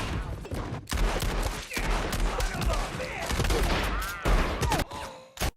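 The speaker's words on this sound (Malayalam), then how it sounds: "ജാങ്കോ ഉടൻ തന്നെ അയാളുടെ മറ്റേ തോക്ക് കൈക്കലാക്കി വെടിവെപ്പ് ആരംഭിക്കുന്നു" Gunfire from a shootout scene in Django Unchained: dense, rapid bursts of shots and ricochets ring out loud and close over a chaotic mix, with short pauses between volleys.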